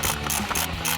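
A ratchet tightens an ignition coil bolt on a Ford F-150 EcoBoost, giving a steady run of close, rapid pawl clicks that continues through the second with no pause.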